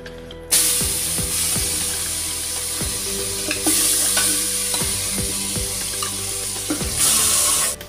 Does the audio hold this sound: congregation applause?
no